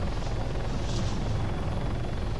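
A helicopter in a medic-themed life simulation video game gives a steady, loud rotor and engine drone that holds evenly throughout with no talk over it.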